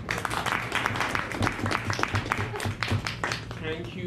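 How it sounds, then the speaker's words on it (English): Audience applause after a talk at a Lean Agile Network session, scattered clapping running steadily throughout with voices murmuring over it. "so please give her a round of applause."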